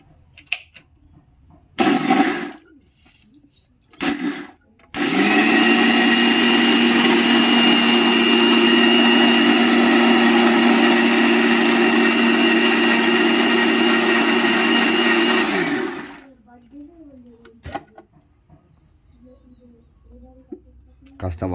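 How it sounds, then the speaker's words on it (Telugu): An electric mixer grinder churns a starch paste for stiffening saris, running as a loud, steady whir for about ten seconds before spinning down, with brief handling noises and bumps before and after. "అప్పుడైతే మనకి మిక్సీ అనేది ఫ్రీగా తిరుగుతుంది"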